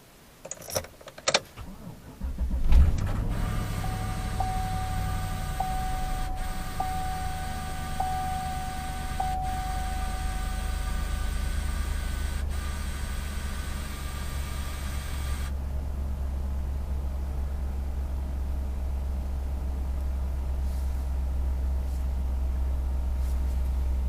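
A GMC Sierra pickup truck engine cranks and fires on a cold start, then settles into a steady, loud idle rumble after a few sharp clicks and a brief warning chime.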